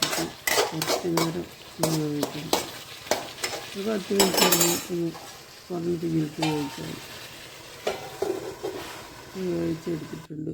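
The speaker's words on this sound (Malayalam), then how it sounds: "ഉപ്പിട്ട് കൊടുത്തിട്ട് ഒന്ന് നല്ലോണം ഇളക്കി" Salted drumstick thoran being stirred in a pan, with a clattering of utensil against metal and a soft sizzle running through, while a voice talks over much of it.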